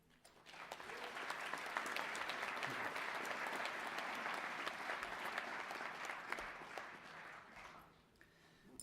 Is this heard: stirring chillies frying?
no